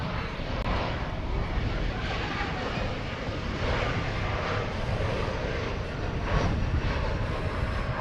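An Embraer 175 jet arrives from Denver, its engine roar steady and broadband throughout, moderately distant with a faint swell near the middle.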